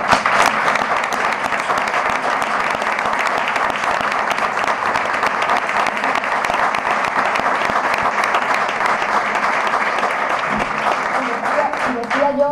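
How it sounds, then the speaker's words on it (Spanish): Sustained applause from an audience at a municipal Constitution Day ceremony and staff recognition event in Almonte town hall, dense and steady throughout, fading slightly near the end. "Así que con mi cariño vuelvo a daros un fuerte aplauso para vosotros."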